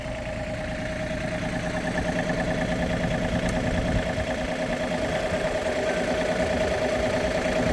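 A tractor-driven post hole digger auger runs with a steady, throbbing engine drone and mechanical rumble, moderately loud and unchanging throughout, with no talking.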